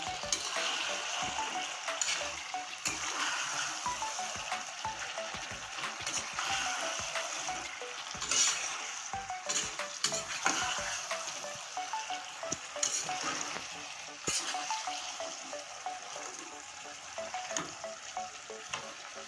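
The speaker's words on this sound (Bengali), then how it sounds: "এবার সুন্দর করে কষিয়ে নেব এই দেখুন আমি মাংসটা দেখুন কষিয়ে নিচ্ছি" Masala chicken with leg pieces sautés in a pan, giving a loud, crackling sizzle punctuated by frequent spatula scrapes and stirring knocks throughout, with no speech.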